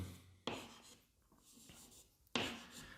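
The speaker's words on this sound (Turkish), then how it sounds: "Yani m'leri silip yerine alfaları yazıyorum" Chalk or marker writing on a board while working a math problem: two bursts of scratchy strokes with a quieter stretch between, close and faint.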